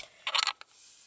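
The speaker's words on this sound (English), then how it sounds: "Glove box." The glove box of a 2015 Mazda 6 Sport opens with a short, bright latch click and rattle, then one small tap, quiet and close.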